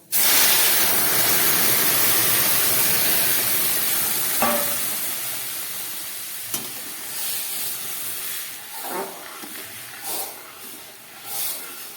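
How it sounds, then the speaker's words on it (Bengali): Boiled mung dal is poured into a sizzling tempering of bay leaf, cumin and radhuni, a sharp burst of loud hiss that slowly fades into a softer simmering sizzle with a few clinks and stirs near the end. "এবার আমি ডালটাকে ঢেলে দেবো"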